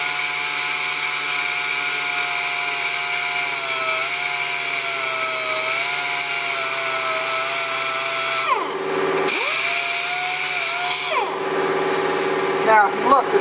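A pneumatic sander runs continuously on foam, a loud, close, steady high whine that dips twice as the tool is eased off and back on, with a final rattle near the end; no speech is heard.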